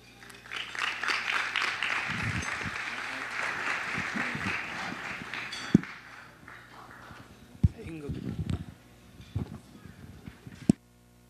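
Guests at a wedding reception applaud the best man, a dense round of clapping for several seconds that fades into scattered claps, thuds and murmuring talk.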